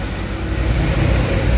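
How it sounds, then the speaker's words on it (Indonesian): A loud, low engine rumble of a bus passing close by on the road, steady and building slightly toward the end. "Ini ada bus"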